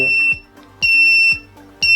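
An Arduino vehicle accident alert buzzer beeps in loud, regular pulses, each about half a second long with short gaps, close and piercing.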